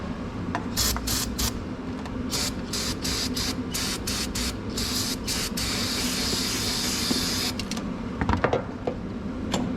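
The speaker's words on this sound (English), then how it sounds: "we're gonna squirt some brake cleaner way down in there" Brake cleaner sprayed into the engine of a 1987 Chevrolet Camaro IROC-Z, repeated short bursts of loud hissing spray, then a long continuous squirt, close up.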